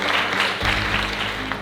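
Audience applause at an arts festival on Bere Island greets speakers arriving on stage. It is a short, dense, steady patter of clapping heard close and fairly loud.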